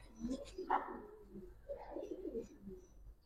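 Giribaz racer pigeons cooing, low soft burbling coos in two bursts, fairly quiet with light background noise.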